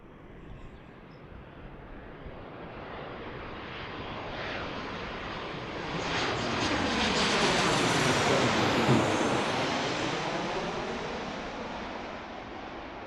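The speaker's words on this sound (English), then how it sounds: "there's Delta coming in from Atlanta, landing on 28 left, the Boeing 737-900." Delta Boeing 737-900 from Atlanta landing on runway 28 left at Pittsburgh airport, a broad jet engine roar that swells as it nears, peaking loud about two-thirds through, then easing off slightly; no talking.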